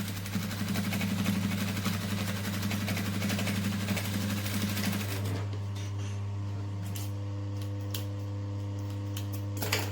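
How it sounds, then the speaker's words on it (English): A sewing machine stitching across several fabric layers at a normal stitch length, a steady close mechanical hum with fast rapid ticking that eases to a quieter whir with scattered clicks partway through. "we're just going to stitch across all of the layers with a normal stitch length"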